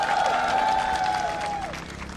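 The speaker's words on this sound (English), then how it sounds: "Can we give a round of applause?" Applause and crowd noise fill a protest gathering over assistant professors' regularization in Kohima, with steady clapping throughout and a sustained tone running above it that fades near the end.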